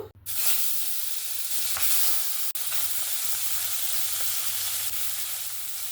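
Tangra fish frying in hot oil in a kadai, a steady close sizzle and crackle filling the whole stretch with a low hum underneath and a brief dip midway.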